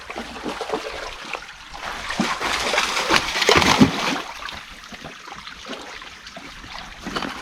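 A dog wading and splashing through a small shallow stream, water sloshing and trickling close by, with a louder burst of splashing in the middle before settling back to gentle churning.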